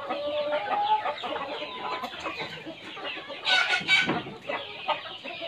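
Chickens cluck and squawk on a farm, near and fairly loud, with a flurry of louder agitated calls midway as birds are caught by hand.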